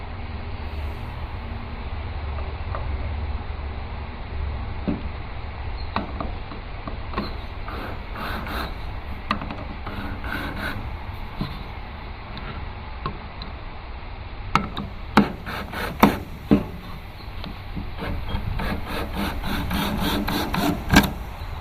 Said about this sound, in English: Grab my screws, stick my screws in the hole.